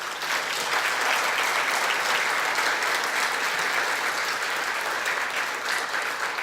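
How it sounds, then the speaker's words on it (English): A big, even round of applause from an audience for students, thick continuous clapping at a steady level throughout, without a break. "We can give them a big round of applause."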